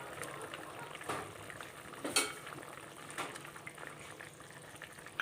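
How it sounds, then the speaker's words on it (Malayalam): Pumpkin simmering in coconut milk for a Kerala pumpkin moli, a quiet soft bubbling boil heard close up, with a few faint clinks of a utensil against the pot and no talking. "ഈ തേങ്ങാപ്പാലിൽ കിടന്ന് മത്തങ്ങയൊക്കെ നന്നായിട്ട് തിളച്ച് പകുതി വേവായി വന്നിട്ടുണ്ട്"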